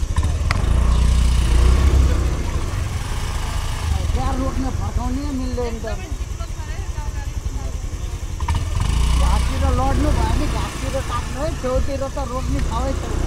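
A scooter engine drones steadily while riding over a rough off-road track, with people talking loudly over the motor throughout.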